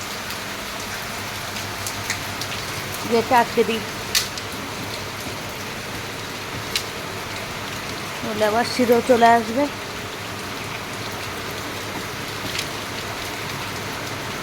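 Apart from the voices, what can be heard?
heavy rain falling outside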